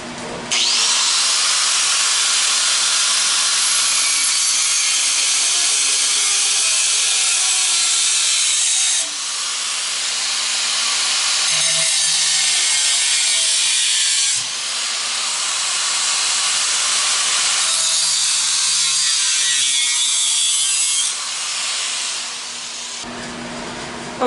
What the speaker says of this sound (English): Run the grinder up to the edge of the housing.